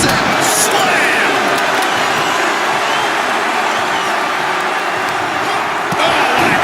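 A wrestling arena crowd in the WWE 2K25 video game roars and cheers steadily throughout, a dense, continuous wash of noise with no break.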